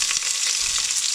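Chopped garlic and an onion sautéing in a pan, a loud, dense, close sizzle that holds steady throughout the short stretch with no voices.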